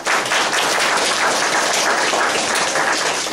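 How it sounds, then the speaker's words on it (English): A roomful of people applauding, dense and steady clapping throughout, fairly loud and close, with no voices standing out. "How about a round of applause for"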